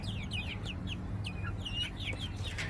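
Chickens cluck and squawk near a farmyard coop in a quick run of short calls, fairly close, with a low rumble underneath and no talk.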